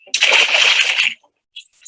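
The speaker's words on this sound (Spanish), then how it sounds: "Esta forma de correr chapoteando sobre la superficie del agua le permite ganar unos segundos preciosos" A basilisk lizard runs across the surface of water, making one sharp, close splashing burst of about a second, followed by a brief faint spatter.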